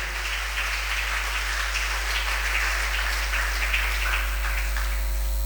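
Inside a Tamil Sunday worship service, the church congregation applauds with a sustained, crackling patter of many hands. The sound is moderately loud over a constant low electrical hum.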